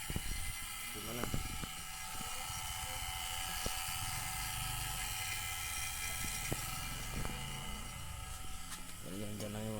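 A vacuum pump runs steadily while evacuating a Condura double-door refrigerator system during a compressor replacement, a constant mechanical drone with brief clicks and squeaky tool sounds over it.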